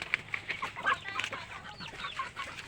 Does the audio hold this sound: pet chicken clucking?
yes